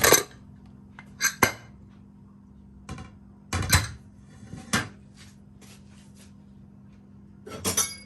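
A pressure cooker holding ash gourd and mango curry is opened after its pressure has gone: a handful of sharp, close metallic clanks and clicks spaced a second or two apart, over a steady low kitchen hum.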